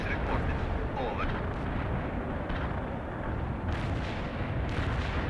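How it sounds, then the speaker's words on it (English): World in Conflict artillery strike: a dense, continuous roll of booming blasts and rumbling impacts that sounds heavy and sustained across the whole stretch. Voice chatter from the game runs beneath it. "Artillery strike hit the mark."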